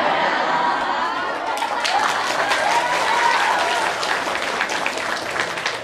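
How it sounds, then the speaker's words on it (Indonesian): Audience at a Daarul Quran girls' tahfidz pesantren clapping in a sustained burst of applause, dense and steady across the whole stretch, with crowd chatter and voices mixed underneath. "Tepuk tangan lagi, satu lagi."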